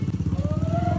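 A motorcycle riding ahead on a quiet village road, its steady engine pulsing throughout at moderate distance, with a rising tone over it.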